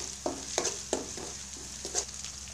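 Ginger paste and onion fry in oil with a low sizzle, broken by about six distinct stirring scrapes spaced roughly every third of a second to half second, close by and moderately loud.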